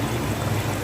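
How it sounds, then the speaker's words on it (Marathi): Water poured into a pot of fish curry, giving a steady, continuous splashing rush that stays loud and close throughout the short clip with no voices. "इथं मी हे 3 कप पाणी घातलेलं आहे."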